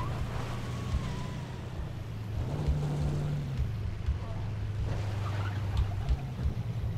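A car in the video game State of Decay is driven fast, its engine droning steadily with pitch shifts as it revs, while a voice speaks over it now and then.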